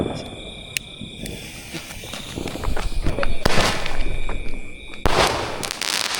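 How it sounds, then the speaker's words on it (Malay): Several sharp firecracker bangs crack out with crackling bursts between them, while insects chirp steadily in the background and faint voices murmur, during Hari Raya Aidilfitri celebrations in Tanjong Karang. "Ni mercun dia kita nak bakar ni yang kali ketiga dah"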